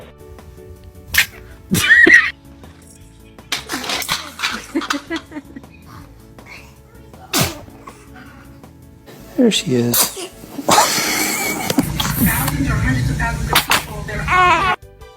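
A baby sneezes a few times in short, sharp bursts that are fairly close, with adults talking and reacting around it.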